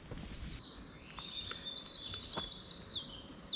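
Several birds chirp and call back and forth at a moderate distance, short high tweets scattered over a steady background hiss.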